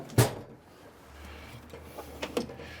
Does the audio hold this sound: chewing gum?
no